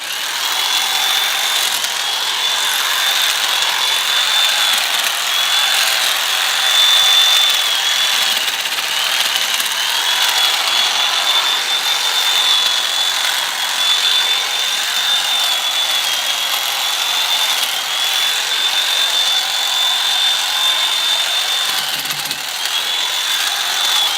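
Power trimmer pruning back a fernbush beside a sidewalk, a continuous high whining motor buzz held steady for over twenty seconds with slight wavering, no voices.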